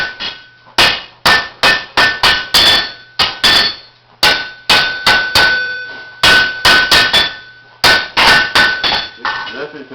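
Hammer blows ring out on hot iron at a blacksmith's forge during forge welding for a hinge, coming in quick bursts of sharp, loud, metallic strikes separated by short pauses.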